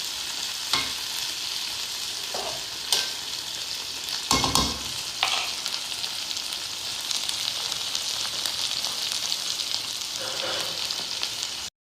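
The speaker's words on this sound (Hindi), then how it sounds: "ये देखिए, भिंडी हमारी फ्राई होना शुरू हो गई है।" Okra (bhindi) frying in a pan gives a steady, bright sizzle throughout, broken by a few sharp clinks and scrapes of stirring, with no voices.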